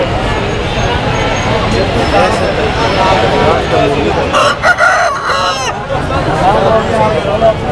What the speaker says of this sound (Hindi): हर नस्ल के मुर्गे मौजूद हैं